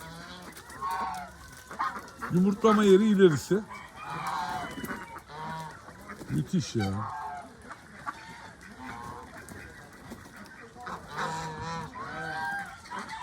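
Çorum geese honking loudly in a cluster on a poultry farm, harsh repeated calls rising over a couple of people talking nearby, with more scattered honks later.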